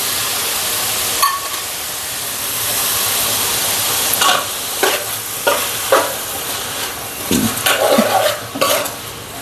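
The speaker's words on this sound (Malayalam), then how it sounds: "ഉപ്പിട്ട് കൊടുത്ത് ഇനി ഒന്ന് ഇളക്കി എടുക്കാം" Beef curry with salt sizzling steadily in a pan, with a spoon stirring it in several scraping strokes and knocks against the pan's sides, close and loud, no voices.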